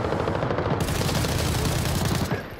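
Rapid bursts of gunfire in Arena Breakout: Infinite crackle densely for the whole stretch, loud and close, like automatic weapons in a game firefight, with no talking.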